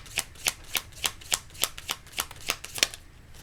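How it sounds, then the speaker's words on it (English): A deck of oracle cards is shuffled up close, a quick, even series of about a dozen crisp riffling flicks, soft and alone with no talk. "We're just going to pull a few oracle cards."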